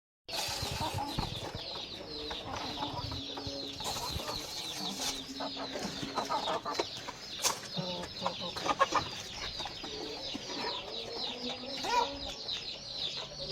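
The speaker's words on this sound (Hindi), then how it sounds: "मारेगी मुर्गी" Chickens cluck and squawk busily in a farmyard, with bursts of agitated calls and some wing flapping, fairly close, with no voices.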